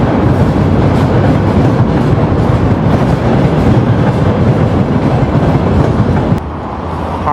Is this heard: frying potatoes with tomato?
no